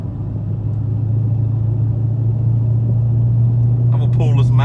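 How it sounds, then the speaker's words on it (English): A Dodge Charger Scat Pack with a factory tune accelerating up a mountain road, heard as a loud, steady low engine drone from inside the car, with a voice starting near the end. "Right now I'm accelerating up to speed limit."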